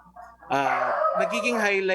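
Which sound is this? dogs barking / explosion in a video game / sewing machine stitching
dogs barking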